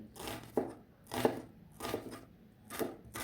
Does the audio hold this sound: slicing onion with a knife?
yes